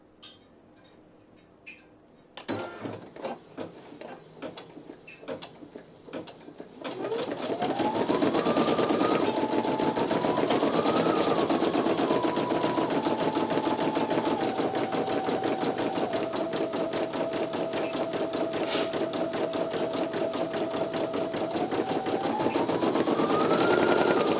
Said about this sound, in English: The green light's going to start sewing something out.